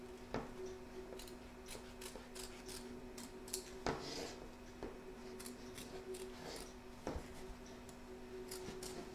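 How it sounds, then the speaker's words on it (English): Scissors trim fabric around the edge of an embroidery hoop for an appliqué, giving a handful of quiet, sparse, crisp snips over a faint steady hum. "turn your hoop over and trim around the edge, taking care not to cut the stitching"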